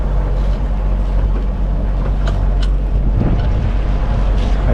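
Sailboat motoring under its engine on the open Atlantic at night, giving a constant low drone mixed with wind buffeting the microphone and occasional water splashes, with no talking.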